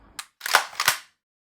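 Practice shots from an SMK B2 budget rifle at a 6-yard range: a faint snap followed by a couple of sharper close pops in quick succession, then silence.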